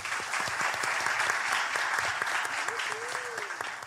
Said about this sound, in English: Can you please give yourselves a big, big round of applause?